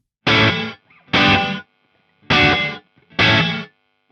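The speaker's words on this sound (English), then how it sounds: "gate, where the reverb is cut off by a noise gate." Four loud, distorted bursts separated by silence, each ringing briefly before being chopped off abruptly, giving a clipped, gated reverb effect.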